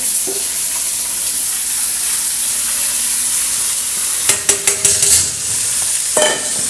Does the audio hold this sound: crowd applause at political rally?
no